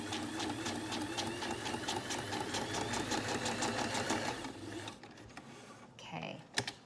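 A sewing machine stitching through paper runs steadily with rapid rhythmic clatter for several seconds, then stops, followed by a few soft handling sounds.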